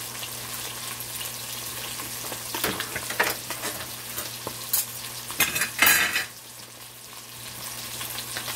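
Snapper and jack fish frying in a pan for an escovitch dish, a steady sizzle with a few louder crackles and utensil bursts midway, close and alone without talk.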